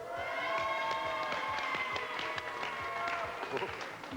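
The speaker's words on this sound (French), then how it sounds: "On les applaudit." A television game-show studio audience in 1993 claps at moderate volume while a bright musical jingle plays over it. The clapping stays quick and scattered throughout.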